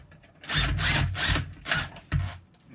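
An impact gun drives a bolt during a camper van build, firing several short, loud mechanical bursts in an uneven rhythm with brief pauses between them.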